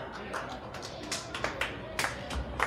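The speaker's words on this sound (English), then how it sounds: "give a big round of applause to Larry Rosen and Scott" An event audience applauds and claps at a festival announcement, with scattered, uneven hand claps and some voices talking over them.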